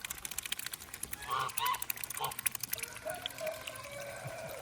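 Geese honk repeatedly at a farm animal sanctuary, a cluster of loud nearby calls in the first half giving way to scattered, softer honks over a constant background hiss.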